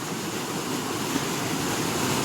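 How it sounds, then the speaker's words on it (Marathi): Water pours down in a waterfall beside waves at a fishing spot, making a continuous loud rushing roar that stays steady throughout. "इकडून पूर्ण असा धबधबा पडतोय"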